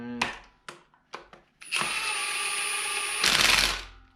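Ratchet tightening cylinder head bolts on a turbo Camaro: a few sharp isolated clicks, then a sustained close buzzing ratchet run that grows louder toward the end, with no talking.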